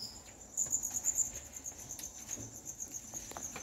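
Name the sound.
field crickets rushing out to eat rice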